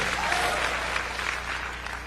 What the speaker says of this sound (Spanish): Dele fuerte ese aplauso si es para Él.